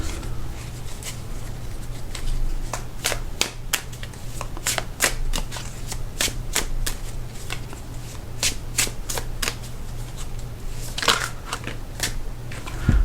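Oracle card deck shuffled by hand: a steady run of crisp, close riffling snaps and flutters that repeat quickly over a constant low hum, with no talking.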